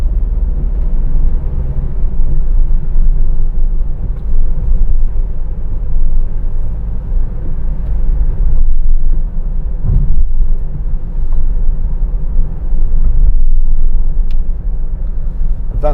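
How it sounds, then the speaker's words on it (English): A 2013 Mercedes-Benz Vito 113CDI 2.1 diesel van on the road, heard from inside as a loud, steady low engine and road rumble that continues throughout. "Vans don't tend to drive as nice when they're empty as they do when they've got a bit of weight in"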